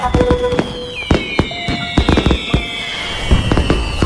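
Fireworks crack and pop in rapid, irregular bursts, with a whistling rocket streak rising over the sharp explosions.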